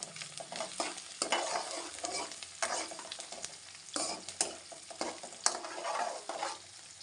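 Onions frying and sizzling in a pan for egg curry, a steady crackle with repeated bursts of scraping as they are stirred, fairly quiet and with no talking.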